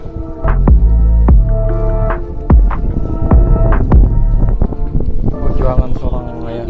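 A fishing boat's engine thumps out at sea in a steady, throbbing rhythm of heavy beats, close and loud, with wind brushing the microphone.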